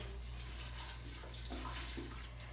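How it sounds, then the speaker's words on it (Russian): A toilet brush scrubs a toilet bowl under running water, a steady close rush of water with a low hum and faint scraping strokes. "ёршик достаем и моем унитаз под водой"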